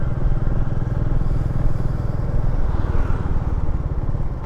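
Royal Enfield Meteor 350 motorcycle engine thumps out a steady, close, low-revving single-cylinder beat, loud and even throughout with no talking.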